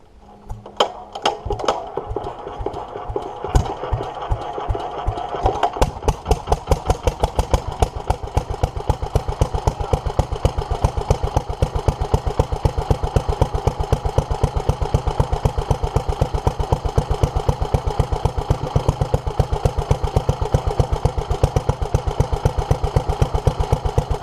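A 1947 Petter A2 stationary engine, left unstarted for decades, is cranked by hand and catches after a few seconds, then settles into a steady, loud, rapid single-cylinder chugging that runs without a break.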